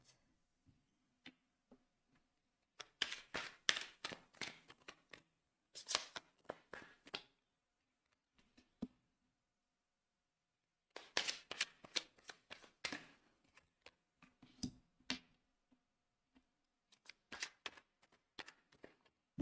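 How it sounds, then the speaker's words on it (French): Tarot-style cards are shuffled and laid out one by one for a reading about granted wishes, with crisp flicking and slapping in irregular bursts separated by short pauses, close and fairly quiet, with no talking. "Je vais déjà mettre toutes les cartes."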